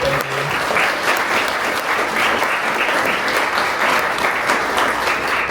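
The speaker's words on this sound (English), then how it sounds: "So if y'all can, give them a special round of applause." Audience applause at the Dollywood theme park, a dense, steady clapping from a crowd that holds loud and unbroken throughout, with no voices standing out above it.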